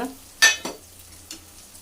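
Chilli, coriander and turmeric powders are stirred into cooking tomatoes for a fish curry, giving a few quick scraping strokes over a faint sizzle. The moment is short and no one speaks.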